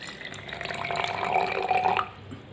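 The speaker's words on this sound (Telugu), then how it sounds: "ఇలా వాటర్ తీసుకోండి వాటర్ తీసుకొని ఈ జార్లో పోయండి" Water poured from a container into a jar with coins in it, a steady close splashing pour that builds for about two seconds and then stops abruptly, with no talking.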